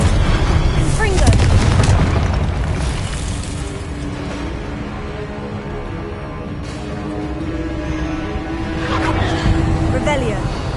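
A Confringo fire-blast spell goes off in Hogwarts Legacy, loud booming explosive bursts layered over dense game sound effects and music, with a voice calling out spell names.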